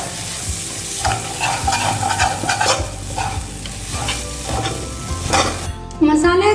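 Masala spices for dhaba-style black chickpea curry frying in released oil, loud continuous sizzling with repeated scraping and stirring strokes against the pan, a sharp metallic clatter near the end.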